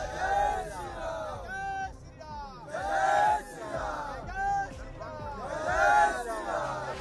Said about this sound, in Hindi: बाबा बागेश्वर के प्रवचन सुनने के लिए श्रद्धालुओं की भीड़ उमड़ रही है।